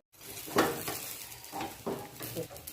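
Colocasia leaf rolls (alu vadi) flipped and roasting in a pan with a spoonful of oil, a soft sizzle under a few scraping, clattering turns of a spatula against the pan.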